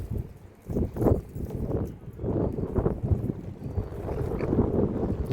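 Strong gusts of wind buffet the microphone at Scarborough harbour, a rough, rumbling roar that swells and falls continuously throughout and sounds loud and close.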